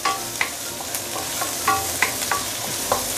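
Prawn shells fry in hot oil in a wok for a Singapore hokkien mee prawn broth, giving a steady close sizzle broken by occasional light clinks of stirring.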